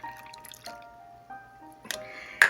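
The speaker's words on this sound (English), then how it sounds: "I also gonna add some orange juice. It's freshly squeezed, a dash of water," Freshly squeezed orange juice poured into cranberry sauce in a pot, heard as short, quiet liquid drips and a brief glassy splash near the end, close and soft with no talk.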